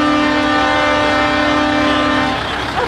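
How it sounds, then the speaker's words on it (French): A truck at a 2012 event in Dangé-Saint-Romain sounds a long, loud, steady horn blast for more than two seconds over a busy outdoor background before it cuts off. "il a un trop beau klaxon en plus."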